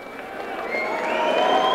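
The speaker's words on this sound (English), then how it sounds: "It seems the crowd is up in the uproar" Boxing arena crowd cheering and shouting during the fourth and final round of a women's bout, a steady roar of many voices that swells louder toward the end.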